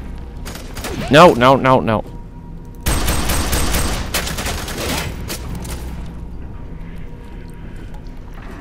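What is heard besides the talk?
gunfire in the video game F.E.A.R. 3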